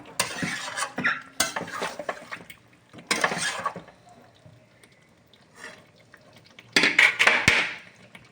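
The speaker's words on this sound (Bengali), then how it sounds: "চিকেনটাকে তলা থেকে একটু নাড়িয়ে নেব।" A spoon scrapes and clatters around chicken in a covered pot while coriander chicken cooks, in short bursts with quiet simmering gaps between them and a louder stretch of stirring at the end.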